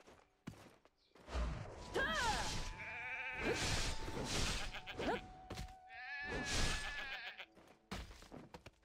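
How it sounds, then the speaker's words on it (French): Sheep bleat in a Black Desert Online game scene, several wavering calls overlapping with combat thuds and game effects, while a voice speaks faintly at times. "Alors, les brebis galeuses."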